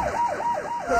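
A fire truck siren wails in rising and falling sweeps, about three cycles in a second, loud and close with road noise beneath.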